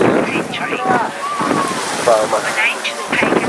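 Wind gusts over open water at sea off the Italian coast near the Ligurian Sea, a steady broadband rush with waves and boat noise, under faint voices.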